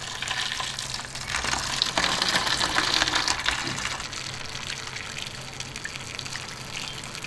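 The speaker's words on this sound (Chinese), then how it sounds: "直接加水哈" Water poured into a hot pot of spicy three-flavour hotpot broth, a steady rushing gush with hissing sizzle that swells loud early on, then settles into a continuous softer bubbling hiss.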